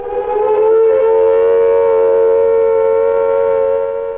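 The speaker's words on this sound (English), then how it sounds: "A wavering, undulating sound on the outdoor sirens lasting 3 to 5 minutes" A civil defense attack warning siren sounds alone on outdoor sirens, a loud, steady wavering and undulating tone that holds through the whole stretch.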